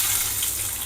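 Curry leaves sizzling in hot oil with mustard seeds, cumin and asafoetida for a tadka: a steady, bright frying hiss, brief and close, with no voices.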